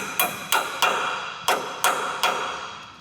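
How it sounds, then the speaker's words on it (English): Six sharp hammer strikes tap a nutsert into a precisely drilled hole in an old Cadillac Escalade frame, spaced irregularly with short ringing decays, close and loud with no talk. "you can push it through with a hammer"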